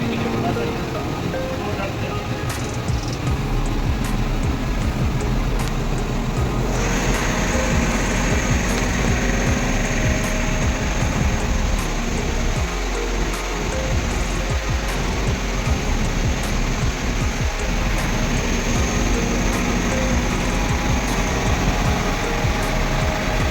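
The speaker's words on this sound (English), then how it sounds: "here you can see the moving brush with high pressure will go inside the ducts and clean inside the HVAC ducts" Duct cleaning machine working inside HVAC ducts, its high-pressure moving brush giving a loud, continuous roaring rush with a rumbling low layer and a brighter hiss that picks up partway through, with a voice talking over it.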